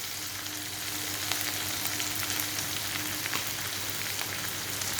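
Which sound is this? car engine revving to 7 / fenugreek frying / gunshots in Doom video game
fenugreek frying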